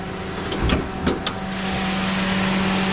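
A Nissan Grand Livina's engine idles in a steady, close low hum, with a few brief clicks and knocks early on over the even drone.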